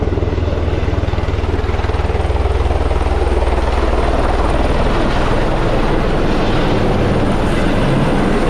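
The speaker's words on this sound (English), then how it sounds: "Waiting for our helicopter." A tour helicopter at Niagara Falls runs steadily nearby, its rotor thudding in a fast, even beat under a loud continuous engine roar, with no talk.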